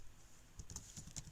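Keys clacking on a computer keyboard while a code comment is typed, a quick uneven run of close, light clicks with no talk.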